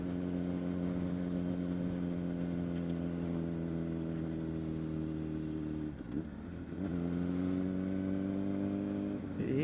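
A Honda CBR1000RR motorcycle engine while riding, holding a steady high drone, then dipping briefly mid-way and climbing back up as revs rise again, loud and close with no talking.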